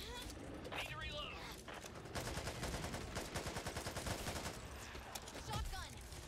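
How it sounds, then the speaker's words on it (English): Shotgun blasts and rapid gunfire from the Back 4 Blood zombie shooter, loud and dense, with repeated sharp bursts packed closely over several seconds as a voice talks over the fighting. "Shotgun."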